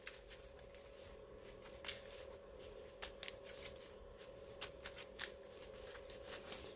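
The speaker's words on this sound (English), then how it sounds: "I'm going to shuffle my deck." A sleeved Pokémon card deck with worn sleeve ends is shuffled steadily, soft riffling with sharper clicks of cards, close and quiet without speech.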